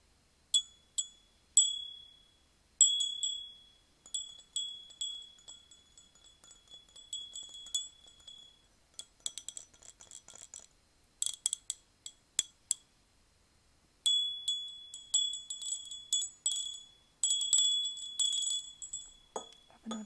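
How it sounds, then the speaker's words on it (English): A small handheld bell is struck repeatedly, giving bright clinking rings in uneven bursts, close and clear with short decays, some strokes in quick clusters and brief pauses between. "I have a bell here that makes pretty nice sounds."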